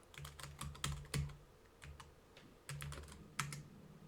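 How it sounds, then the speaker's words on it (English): Keystrokes on a computer keyboard as an email address is typed, bursts of quick clicking taps separated by short pauses, close and fairly quiet with no talk. "Do I type my email address in chat?"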